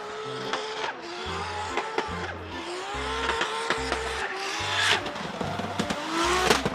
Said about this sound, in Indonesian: ada mobil balap